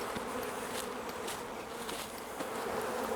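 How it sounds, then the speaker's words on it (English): Honey bees, shaken off two empty brood boxes, fill the air with a dense, steady, loud buzzing drone, with a few faint knocks underneath. "We're just shaking all of the bees off the 2 empty brood boxes"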